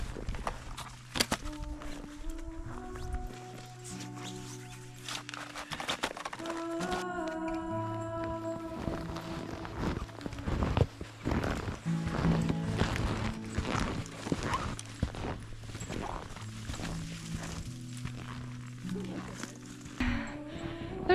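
Crunching footsteps of snowshoes walking through deep snow in winter woods near an off-grid cabin, a steady close rhythm of heavy steps mixed with breathing and brief talk.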